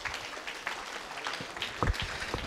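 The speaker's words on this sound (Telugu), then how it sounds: "ఒకసారి గట్టి క్లాప్స్ అండి భాగ్యనగర్ ట్రస్ట్ వాళ్ళకి." Crowd applause for the Bhagyanagar Trust at a Patriji Day celebration of pyramid meditators in Kothapet: a steady wash of clapping from many hands, with a few louder claps toward the end.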